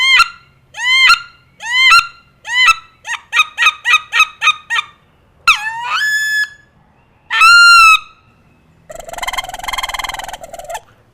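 Handheld duck calls imitate wood duck sitting sounds: a string of sharp, rising squeals in quick succession, a few longer drawn-out whistles, then a rough rolling buzz at the end, all loud and close against silence.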